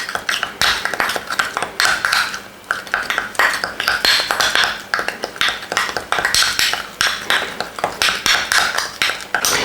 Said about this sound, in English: Also add 1 spoon. From that, mix very well.